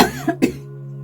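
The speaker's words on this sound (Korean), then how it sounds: "갑자기 기침이 나오네요." A person coughs once, then gives a second short cough, close and fairly loud, followed by a faint steady hum.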